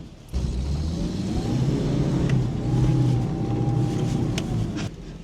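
Restored Renault Caravelle, a rear-engined rear-wheel-drive car back on the road after twenty years, its engine revving and pulling from inside the cabin, a steady moderate drone rising and falling as it accelerates.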